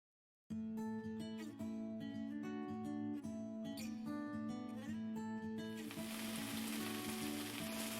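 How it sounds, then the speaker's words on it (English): Chard sautés in olive oil with onions and dill, a close, continuous sizzle and crackle in a home kitchen, with no voices. "here's the quick chard saute with a few onions, olive oil, and the dill"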